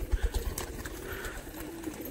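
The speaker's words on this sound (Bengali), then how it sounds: "একটু লাল পাগলাটা খুবই ডাকাডাকি করছে" A red pigeon among a loft of birds coos in a short run of low throaty pulses, close and fairly faint, with soft background noise.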